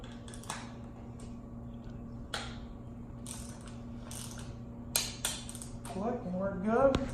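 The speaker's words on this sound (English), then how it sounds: "Hear the click and you're good." Torque wrench tightening Allen bolts to 20 foot-pounds while mounting an Air Lift LoadLifter 5000 on a 2018 Ram 3500, giving several sharp metallic clicks spaced a second or two apart, close up, with a voice speaking near the end.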